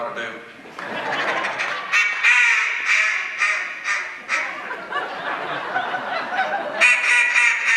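Duck call blown to give a sweet, soft duck quack, a run of short raspy quacks with a chuckling rhythm, close and fairly loud, with a person talking in the clip.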